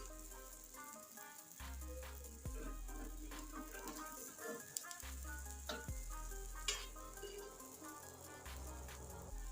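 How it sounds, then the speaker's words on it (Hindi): Aloo paratha fries in ghee on a tawa with a soft, steady sizzle and crackle, broken by a few sharp clinks of a utensil against the pan. "और थोड़ा सा ऊपर भी हम घी लगाएंगे, साइडों पे भी थोड़ा थोड़ा और लगा देंगे तवे के।"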